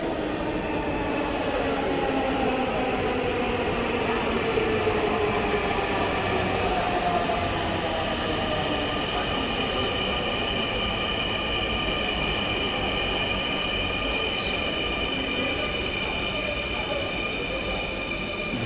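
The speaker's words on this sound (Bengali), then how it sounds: "ইতিমধ্যে আমাদের ট্রেনও চলে এসেছে" A Dhaka metro rail train rolls into the station with a loud continuous rumble and rising, sliding wheel squeals, steady and close for the whole stretch.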